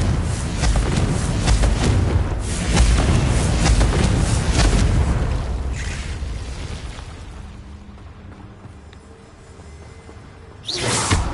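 Confringo fire spell in Hogwarts Legacy blasts open with a loud, booming explosion whose roar rolls on and slowly fades, followed by a fresh burst near the end.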